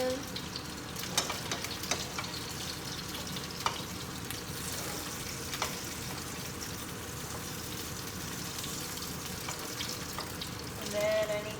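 Kielbasa with rice and black beans fries in bacon grease, a steady crackling sizzle with occasional clicks of stirring and turning in the pan.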